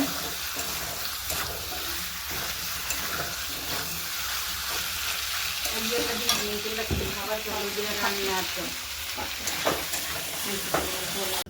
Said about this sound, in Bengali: মশলা দিয়ে ভালো করে একটু নাড়িয়ে দিচ্ছি।